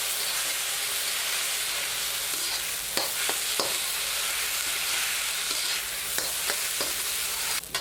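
Fried rice with blue crab sizzles hard in a hot pan as a soy sauce, fish sauce and honey seasoning is stirred in, a continuous loud frying hiss broken by occasional scraping strokes of the stirring utensil.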